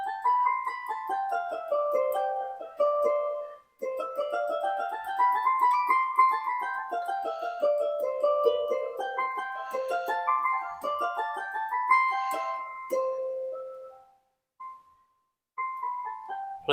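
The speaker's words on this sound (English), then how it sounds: "Make some harp music." Harp music, a run of bright plucked notes in rising and falling melodic lines that sound close, with a few short pauses and no talk.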